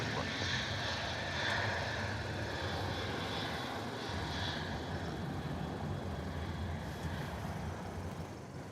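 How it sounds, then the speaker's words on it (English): A Qantas airliner takes off from Melbourne Airport, a steady distant jet roar that holds throughout, with faint voices under it. "Okay, this is Qantas 612 off to Brisbane."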